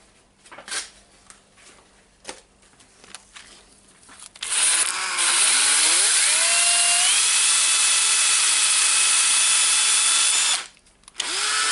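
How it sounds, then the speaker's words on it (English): A power tool sands the motor fan of a Milwaukee M18 compact impact wrench that won't run: after a few scattered knocks, a loud, steady high-pitched whir rises in pitch and holds for about six seconds, then stops abruptly. "I think I will sand the fan a little bit."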